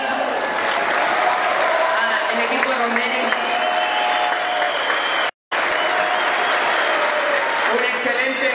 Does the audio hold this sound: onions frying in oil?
no